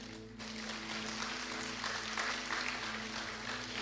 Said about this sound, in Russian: Вот здесь хорошее место, чтобы аплодировать Иисусу.